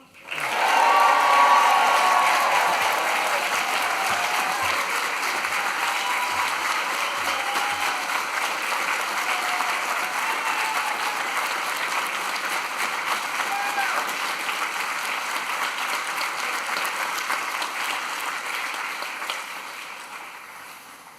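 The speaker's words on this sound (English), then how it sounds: "raise the roof with cheers and applause in this hall that's very full" A full hall erupts in sustained cheering and applause at the close of a university graduation ceremony, loud and dense for about twenty seconds before fading at the end.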